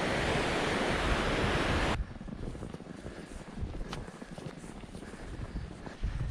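A snowy river near Goðafoss waterfall in Iceland gives a broad, steady rush of flowing water. It is heavy with wind buffeting for the first two seconds, then continues as a softer, constant wash.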